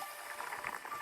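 Soft bubbling of water boiling, a brief burst of quiet gurgles and pops with no talking.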